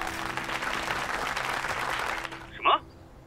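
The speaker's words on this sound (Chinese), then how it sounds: "掌声欢迎" Steady applause from an audience at a charity auction welcoming a brand representative on stage fills the room, then cuts off abruptly, followed by a brief voice.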